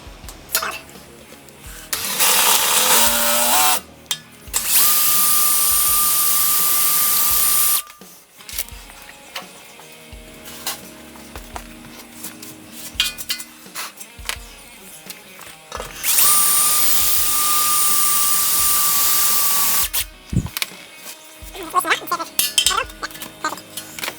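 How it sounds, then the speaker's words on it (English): A power drill bores out spot welds on a Chrysler 300C SRT chassis rail, two long, loud, steady whining runs of several seconds each with a high tonal squeal, separated by clinks, handling noise and tool clatter in a workshop. "We've just got to drill out the spot welds."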